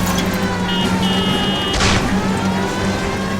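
A car engine in L.A. Noire hums steadily with a tonal whine, a brief surge of noise rushing past midway, no voices present.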